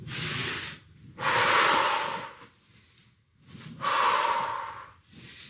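Forceful breaths during a stability ball workout, loud rushing exhales with a quieter intake between them, in a slow repeating rhythm close to the microphone.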